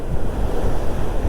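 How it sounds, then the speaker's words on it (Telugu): Ocean waves wash onto a beach in Cyprus on a windy day: a steady, close rushing surf with heavy low wind rumble against the microphone and no voices. "అలానే వచ్చింది కదా అలలు"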